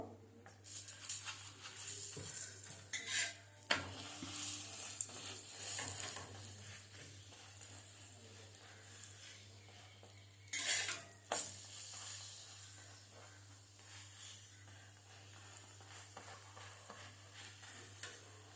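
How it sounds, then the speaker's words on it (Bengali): A spinach paratha fries in oil on a pan, giving a faint, steady sizzle with occasional louder scraping and flipping sounds from a spatula. "আমি আজকে তেল দিয়ে এটাকে ভালো করে ভেজে নেবো"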